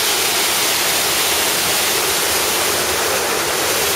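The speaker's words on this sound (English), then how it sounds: "garden waterfall." A small garden waterfall in a Chinese garden pours steadily, a continuous close rush of splashing water with no pauses or voices.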